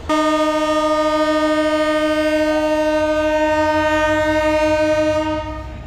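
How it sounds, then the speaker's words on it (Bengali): A long, loud, steady train horn blares for several seconds as a train departs a station, its chord of tones holding unbroken before cutting off at the end, with rumbling underneath. "ট্রেনের লম্বা হুইসেল, আর এই যে ট্রেন যাত্রা শুরু করবে"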